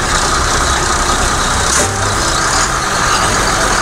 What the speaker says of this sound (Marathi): आता एसटी आपली स्वारगेटमधून पुढे निघते.